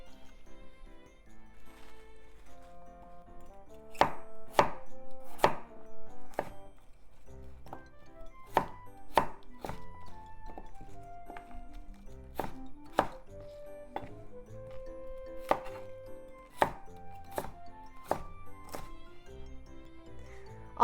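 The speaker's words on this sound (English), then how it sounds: "So let's make it into thin slices." A knife chops a cabbage stalk into thin slices for a chicken and cabbage hot pot, making a series of sharp, close knocks on a board in irregular clusters over soft background music.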